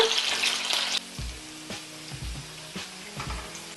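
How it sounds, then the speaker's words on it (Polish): Raw potatoes sizzle frying in a pan, hissing loudly at first, then quieter sizzling continues with a few scraping, knocking sounds as they are stirred. "Wrzucam na patelnię surowe ziemniaki i smażę je na złoty kolor"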